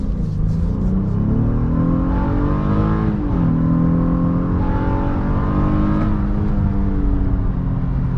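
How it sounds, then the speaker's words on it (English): A 2023 Honda Passport Elite V6 engine revs hard under acceleration through its VTEC crossover, a loud sustained climbing engine note heard from inside the cabin with rising and shifting pitch. "Take another rip at it here, so you can hear that VTEC crossover."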